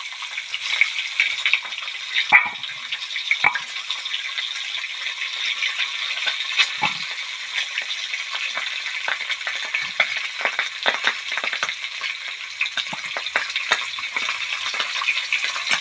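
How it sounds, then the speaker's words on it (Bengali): Eggs fry in hot oil in a pan, a close, steady crackle and sizzle with scattered pops and spits. A few light clinks of a utensil sound over it, and nobody speaks. "তেলটা গরম হয়ে গেছে। এখন আমি এর মধ্যে ডিম ছেড়ে দিই।"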